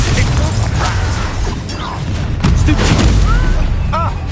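Loud spell blasts and magical explosions crash repeatedly during a Hogwarts Legacy duel, booming impacts with shattering debris and whooshing effects, dense combat noise throughout.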